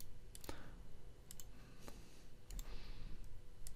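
Numbers are keyed into a calculator keypad, a run of quick, faint, irregular clicks over a steady low hiss.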